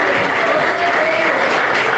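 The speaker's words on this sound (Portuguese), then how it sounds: "Palmas" Church congregation applauding during a sermon, a steady wash of clapping that fills the two seconds at close range with no break.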